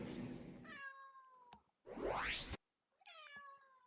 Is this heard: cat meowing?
yes